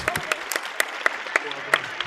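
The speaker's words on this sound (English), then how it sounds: "Can we please have a round of applause for our community champions?" A small crowd claps at a tabletop gaming convention stage event, sparse and uneven with distinct individual claps rather than a full roar, brief and fairly close.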